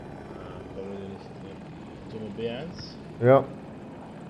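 A KA-520 Super Hokum attack helicopter from a killstreak in a shooter game on the Hourglass map, a low rotor drone sitting under a player's close, animated talk that dominates the clip.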